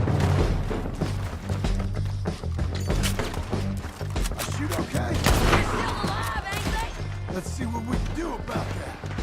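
Dense gunfire from Red Dead Redemption 2, sharp shots and bursts crackling one after another over a loud, busy game mix with raised voices throughout.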